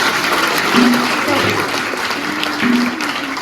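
Children and congregation clapping at a children's Mass in Sainte Agnès parish, a busy, sustained round of applause with brief voices and a sung note rising through it.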